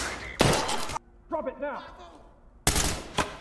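Loud bursts of rapid gunfire from the tactical shooter Ready or Not, two close volleys separated by a short pause, with a shouted voice between them.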